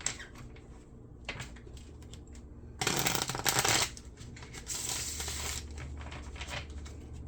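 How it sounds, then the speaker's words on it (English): Tarot cards are shuffled close by in two bursts of brisk riffling, separated by a few quiet taps and soft handling sounds. "let's give it a couple shuffles and we'll lay out the spread."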